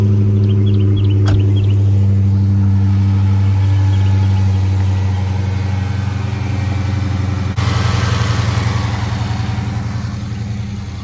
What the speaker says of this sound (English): Seems like it's idling right now.